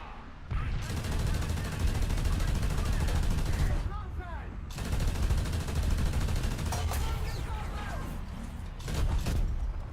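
Heavy gunfire and booming shots from tank combat in War Thunder, loud bursts repeating over several seconds with brief pauses between volleys.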